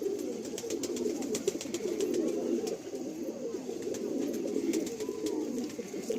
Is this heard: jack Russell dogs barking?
no